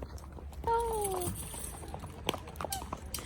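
A horse on a trail ride in Jamaica makes soft, uneven hoof clops and a brief nicker or whinny, fairly quiet under light background chatter.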